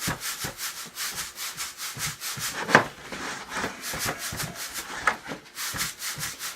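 Sand and gravel swished back and forth in a gold pan during a prospecting clean-up, a steady rhythmic scraping and rubbing with regular strokes and a couple of sharper clicks from small stones.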